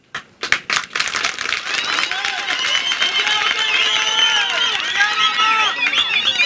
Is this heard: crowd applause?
yes